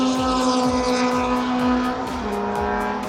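A Fire Force funny car drag racing engine roars loud and close at Silverstone, its revving rising and falling in rapid repeated pulses with a harsh mechanical buzz.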